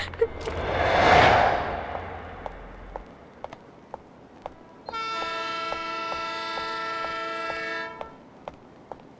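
A train goes by with a swelling rumble, then a long sustained horn blast sounds for several seconds before the noise fades.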